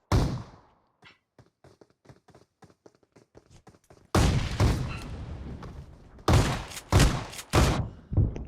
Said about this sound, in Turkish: adam uzaktan pompalı vuruyor